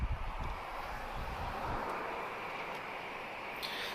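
Aircraft engines roar steadily at Lisbon Airport as planes line up waiting to depart, a broad continuous rumble with wind noise, loudest at the start and holding fairly even throughout.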